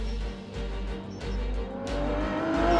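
Aston Martin Vulcan race car on a track, engine droning loud and close with a steady low rumble, climbing in pitch as it accelerates through the clip.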